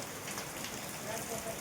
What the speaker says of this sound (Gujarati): તળતળિયો વરસાદ પડવા માંડ્યો છે